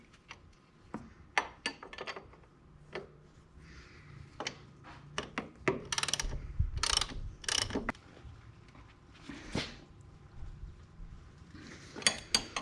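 Sharp ratcheting clicks in irregular bursts as a wheel bolt is tightened back in from the front, close by, with a few louder clanks and no talking.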